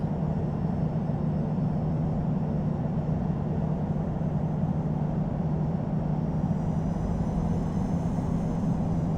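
Air France Cargo Boeing 777 cargo jet taking off in the flight simulator game Infinite Flight, a steady loud engine roar with a low hum and a thin high whine, continuous from start to end.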